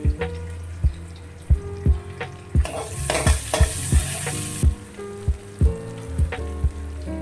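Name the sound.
onion and chopped ginger frying in pan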